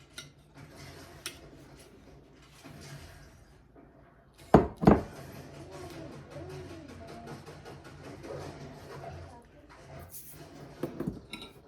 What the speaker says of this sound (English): Now we're gonna put it in the oven.